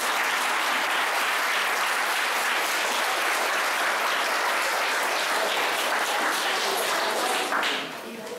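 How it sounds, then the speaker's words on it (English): A crowd applauds steadily and loudly for several seconds, dense clapping throughout before tapering off at the end. "if you give them a round of applause, we can really appreciate it"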